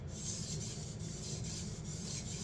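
Steady, continuous rasping scrape of a knife blade worked back and forth on a wet 400 grit whetstone, close and even in level, with no talking.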